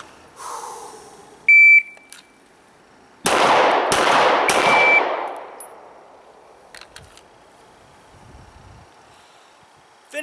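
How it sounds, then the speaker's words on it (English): Shot timer beep followed by three rapid pistol shots drawn and fired at a 2-inch circle from 3 yards on a range; one short high beep, then three sharp close cracks in quick succession with ringing decay. "draw, fire three shots, keep them in that 2-inch circle."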